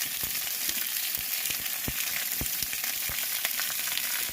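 Steak seasoned with lemon pepper cooks on a hot salt block, giving a constant bright hiss and crackle with scattered small pops, close and steady throughout.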